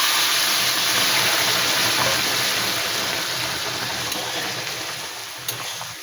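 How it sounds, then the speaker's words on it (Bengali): Hot water poured into a pan of taro and shrimp curry after the taro, spices and shrimp were fried, giving a steady rushing, gushing wash that stays fairly loud throughout and eases slightly toward the end. "এটা গরম জল দিলাম"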